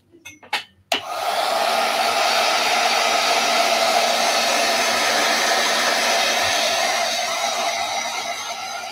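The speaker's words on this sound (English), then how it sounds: "I'm gonna use my heat gun and dry this whole surface because I won't be able to do much if it's wet" A heat gun drying a wet painted surface starts after a few brief clicks and then holds a loud, steady blowing whir close by for the remaining eight seconds.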